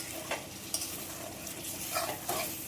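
Meat sizzles steadily in a hot pan while being stir-fried for kosha, a continuous frying hiss with occasional scraping stirs over it, close and even in loudness, with no talking.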